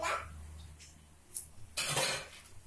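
Spoon scraping and clinking in a pan while turmeric, coriander powder and garam masala are stirred together for egg rava upma, a few scattered close scrapes and taps with quiet gaps between.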